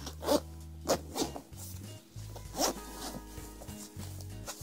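The zipper on a Fujifilm HS30 EXR camera case is pulled in several quick, rasping strokes close by, with short pauses and handling rubs between the pulls.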